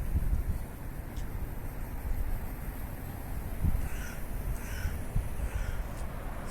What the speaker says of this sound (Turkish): Saka da var, karga daha çok şu anda.